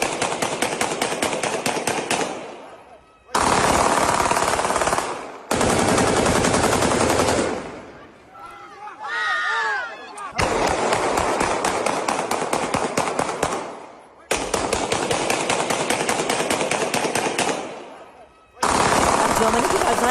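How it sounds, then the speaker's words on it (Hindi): Pistol and rifle gunfire during New Year celebrations on the streets of Lisbon, long loud bursts of rapid shots broken by brief pauses, with a faint voice in one gap. "पिस्टल राइफल से फायरिंग कैसे हुई"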